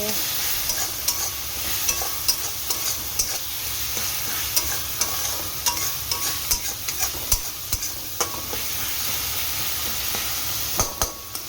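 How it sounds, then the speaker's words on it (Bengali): Tangra fish masala sizzles steadily in a pan while being sautéed, with a continuous frying hiss and repeated scraping clicks of a spatula stirring it. No one speaks. "ট্যাংরা মাছের মশলার তো কষা চলছে।"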